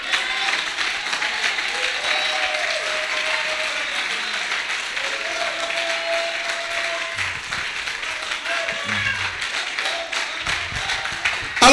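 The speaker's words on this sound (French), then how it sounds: "c'est tout ce que vous avez donné comme acclamation?" A church congregation claps and cheers in acclamation, a sustained wash of applause with voices rising over it, carrying on steadily and growing louder in a final burst.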